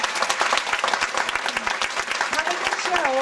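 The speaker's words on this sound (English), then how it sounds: "Gentlemen, a big round of applause for Murjana." A live show audience claps warmly as performer Murjana is called out, brisk dense applause with a few individual sharp claps standing out; faint voices and a whistle-like tone surface near the end.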